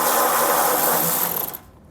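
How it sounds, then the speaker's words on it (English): A ratchet with a 10mm socket loosens heat shield bolts on a 2018 Subaru Outback Wagon, giving a dense, steady close-up clicking for about a second and a half before it stops abruptly. "So we'll grab our 10mm socket."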